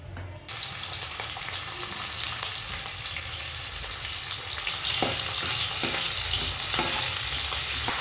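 Fish sizzles hard in hot oil while being fried for fish fry and fish curry. The loud, crackling frying runs continuously at close range, with scattered spatters and scraping stirs, and no one speaks.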